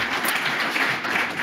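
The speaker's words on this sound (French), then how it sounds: "Je pense qu'on peut les applaudir pour leur intervention" An audience at an artisans' talk in Bordeaux applauds the speakers. The clapping is dense and continuous for its whole brief length, with no voices over it.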